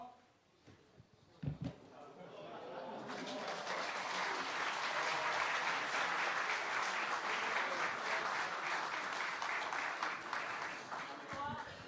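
Applause rises from an audience at a Democratic Party supreme council candidates' speech event after a candidate's deep bow, building within a few seconds into steady, dense clapping that continues for roughly ten seconds, with some brief sounds before it starts.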